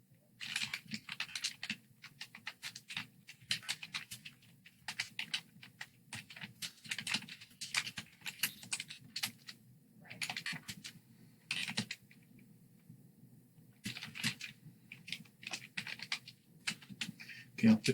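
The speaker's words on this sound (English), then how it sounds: "let's go ahead and type up this memo" A memo being typed on a computer keyboard, with quick, soft key clatter in bursts and short pauses throughout. A low hum sits underneath.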